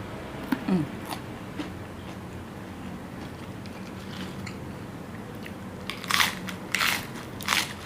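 Crunchy bites and chewing on fried Isan sausage, pure meat eaten with rice, close to the ear, with several sharp crackling crunches, most clustered near the end, over a soft background hum.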